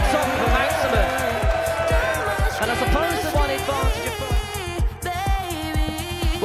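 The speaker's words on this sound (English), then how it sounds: "that might well be the biggest cheer we see tonight" A loud live crowd roars and cheers at a darts 9-dart shootout, with steady rhythmic thumping and commentary voices talking over the din throughout.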